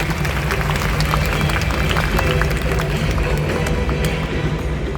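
A crowd applauds at a predators-on-wings bird show in an outdoor amphitheatre after a vulture demonstration, with dense, continuous clapping at a steady loud level throughout.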